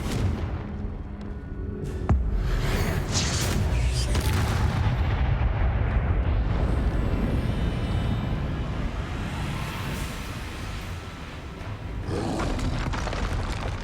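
Repeated Confringo fire spell blasts boom and crackle during a fight against a troll in Hogwarts Legacy, loud fiery bursts over a continuous rumbling roar with scattered game voices.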